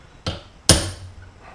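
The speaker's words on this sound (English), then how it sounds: "just difficult getting these rivets bucked up or compressed correctly." Two sharp metallic hammer blows bucking rivets on a Porsche 944 torque tube, a lighter strike followed by a louder one with a short ringing decay, close and alone.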